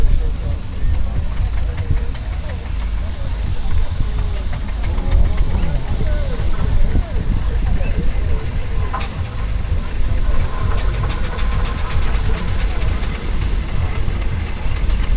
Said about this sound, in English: it is really a massive pressure cooker, isn't it? So, 2-cylinder, it's compound engine